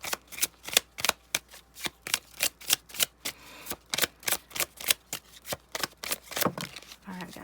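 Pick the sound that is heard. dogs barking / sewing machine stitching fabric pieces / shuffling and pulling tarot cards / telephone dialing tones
shuffling and pulling tarot cards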